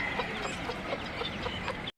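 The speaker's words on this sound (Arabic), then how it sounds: "هذه دجاجة بلدي مع عيال 5 عيال" A local hen clucks among her five chicks at a Buraydah bird market, with repeated short clucks and faint peeps over a steady, busy market hum.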